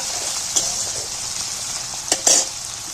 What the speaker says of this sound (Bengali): টমেটোটাকেও একটু ভেজে নেব, তাহলে কাঁচা গন্ধটা চলে যাবে।